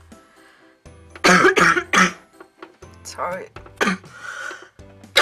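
Several harsh coughs and throat clearing up close, in bursts, with a person briefly speaking between them.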